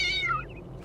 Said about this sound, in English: Oh, cat! Can I pet? I want to pet you.